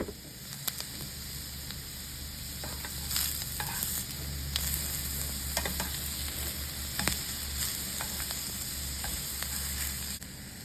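Shrimp cook in a hot pan with a continuous loud sizzle and hiss, close up, punctuated by occasional clinks and scrapes of stirring.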